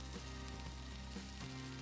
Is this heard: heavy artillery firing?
no